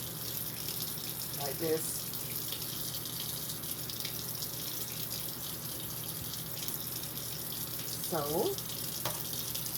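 Tap water runs steadily over melon seeds in a jar as they are rinsed, a continuous splashing stream with a person speaking briefly over it.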